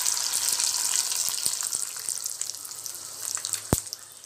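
Mustard seeds and fenugreek crackle and splutter in hot oil for a ladyfinger tamarind curry, a close, continuous hiss dotted with small pops and one sharp crack near the end.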